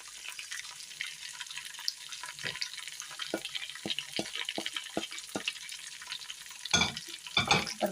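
Mutton trotters being stirred with spices in a pan, a steady sizzle of frying with a string of sharp scraping stirs and a couple of louder, longer scrapes near the end, no voices.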